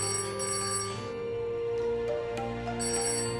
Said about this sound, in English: It's the emergency phone.